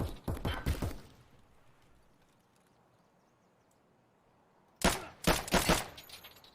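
Gunfire in a shooter video game comes in two sharp, rapid bursts of shots, one at the start and another after several seconds of near silence.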